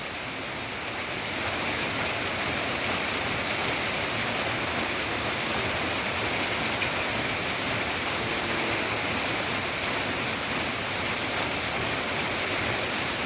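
Steady, dense hiss of rain falling continuously, broadband and even throughout, with no voices.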